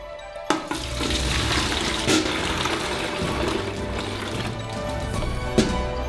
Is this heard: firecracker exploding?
no